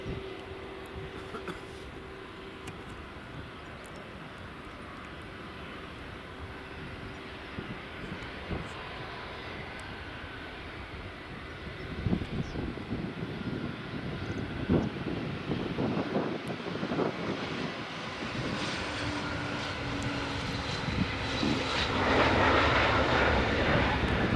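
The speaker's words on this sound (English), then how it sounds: "here's this Falcon 2000 EX just coming in now" A Dassault Falcon 2000EX business jet comes in to land at Edinburgh Airport, its engine roar steady and moderately distant at first, then swelling louder and closer toward the end amid gusts of wind across the microphone.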